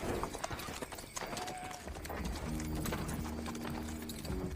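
Horses bought from villagers carry a group of wounded ex-soldiers out of the mountains in a film, with hooves clip-clopping steadily amid outdoor ambience and a low droning musical tone.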